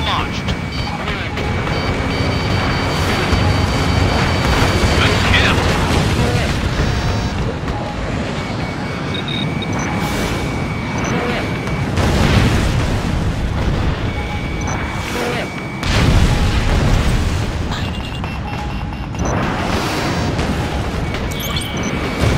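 Jet combat in Ace Combat Infinity: a missile launch and explosions come as deep booming surges over steady rushing wind-like engine roar, with heavier blasts around twelve and sixteen seconds, loud throughout.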